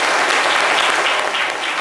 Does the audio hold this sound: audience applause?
yes